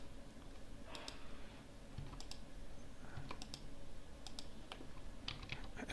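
Computer keyboard keys pressed during Revit drafting work, sparse clicks in small clusters, quiet and near against a low room hum, no talking.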